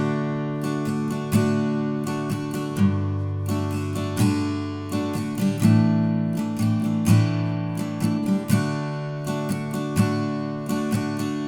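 Acoustic guitar strums the verse chord progression of a song in a steady repeating pattern, each chord held for one full strumming cycle, close and clear with no talking.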